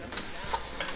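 Korean soybean paste stir-fried in pork fat in a pan, a steady close sizzle with a few scraping stirs of a utensil, no voices over it.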